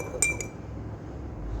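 A teaspoon stirring salt into water in a glass gives two quick, bright clinks close by, then near-silence.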